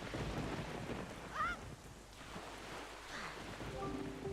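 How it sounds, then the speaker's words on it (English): Steady rain with low thunder rumbling through a stormy island scene in The Legend of Zelda: The Wind Waker HD on Wii U, the downpour continuous from start to end with faint game tones layered above. "I can still finish exploring the island after it's done raining."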